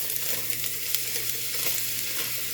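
Half a chopped onion sizzling in a pan for chili beans, a loud, dense, continuous frying crackle with a low steady hum beneath, no voices.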